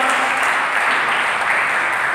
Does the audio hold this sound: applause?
yes